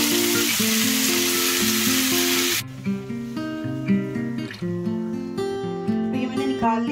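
Vegetables with a pinch of salt sauté in a hot pan, a loud steady sizzle at first that drops sharply partway through to a softer, intermittent crackle with occasional stirring, no talking.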